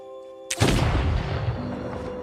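A single loud gunshot in a film, a sharp sudden blast followed by a booming rumble that decays over about two seconds.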